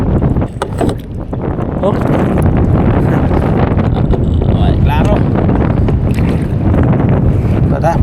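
Strong wind gusting over open water during kayak fishing, a loud continuous roar buffeting the microphone throughout, with someone speaking briefly over it.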